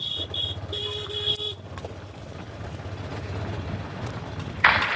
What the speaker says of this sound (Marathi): आणि पहा मी हॉर्न का वाजवते